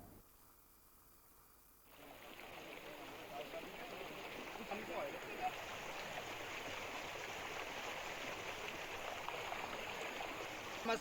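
A monsoon rainwater drain in Uttarakhand carries a steady rushing stream. After a quieter start the flow swells into a constant broadband wash of water that stays even throughout.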